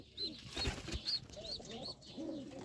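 Pigeons in a coop coo softly in low rolling calls while wings flap in short bursts nearby, with a few higher chirps scattered through the brief scene.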